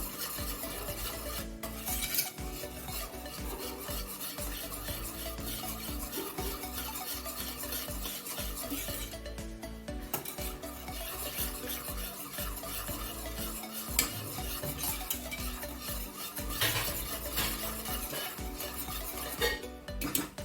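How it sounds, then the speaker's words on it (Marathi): A white sauce for pasta is stirred in a pan until thick, giving steady scraping and swishing with soft sizzling and occasional utensil clinks against the pan, continuous and close without talk. "आता चांगलं घट्ट होस तोपर्यंत त्याला हलवायचं आहे."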